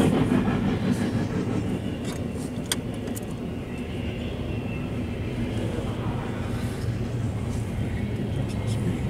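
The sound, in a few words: freight train with empty cars passing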